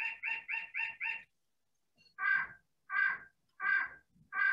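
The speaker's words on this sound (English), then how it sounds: "it's my 11 o'clock, which is a little early, nuthatch bird on my clock." Recorded nuthatch call from a bird clock, a rapid run of five nasal notes, then a pause and four longer, louder calls, crisp and close with silence between.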